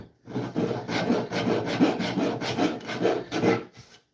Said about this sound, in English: I do very much like this rasp.